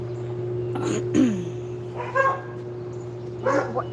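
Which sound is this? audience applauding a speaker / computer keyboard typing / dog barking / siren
dog barking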